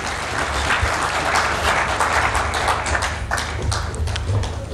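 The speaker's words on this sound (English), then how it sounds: "So another applause for him as he addresses the conference" A conference audience gives sustained applause for a speaker at a devolution conference, dense and steady clapping from a large crowd in a hall with some louder individual claps standing out.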